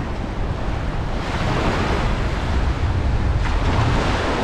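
Waves on a big open beach in Mykonos, Greece, a steady loud roar of surf mixed with wind noise buffeting the microphone, with no talk.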